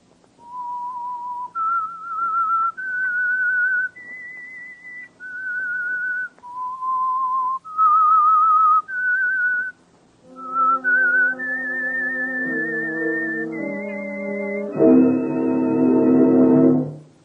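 A clear, melodic whistled tune of sustained notes stepping up and down, the opening signature of the Signal Oil radio program The Whistler, followed by a rich ringing chord that swells at the end.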